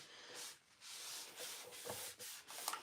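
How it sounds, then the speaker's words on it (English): Wet paint rubbed off a wooden nesting table to distress it, giving a soft, continuous scuffing rub with brief dips and small knocks, faint and close, with no talk. "I'm just going to kind of rub away at it before it's had chance to dry"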